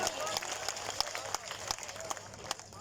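Audience clapping at an all-India mushaira poetry gathering, a dense patter of many hands sustained throughout with scattered louder claps standing out, moderately loud and slightly distant.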